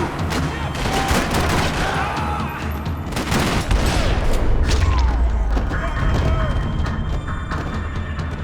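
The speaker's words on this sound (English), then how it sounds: "Another parking lot rattling with gunfire" Gunfire in a parking lot in the video game Max Payne 3, loud bursts and rapid shots with heavy booms and low rumbling impacts, continuous and close, with some voices mixed in.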